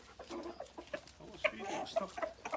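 Hens cluck in a hillside farm yard in the Black Sea region, choppy irregular calls close by, with a person talking among them.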